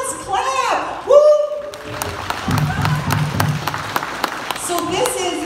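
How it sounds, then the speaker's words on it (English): School audience clapping for students with perfect attendance, scattered hand claps and a cheer rising under a speaker's voice and children's chatter, moderately close. "Yeah, let's clap."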